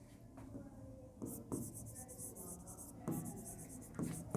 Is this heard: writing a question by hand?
yes